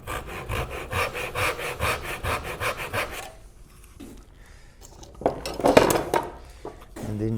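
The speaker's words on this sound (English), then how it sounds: "it might be easier if I take make a little saw cut here first." A hand saw cuts a short kerf into wood at a workbench, close and clear. Steady back-and-forth strokes run for about three seconds, then stop. Scraping and handling noises follow.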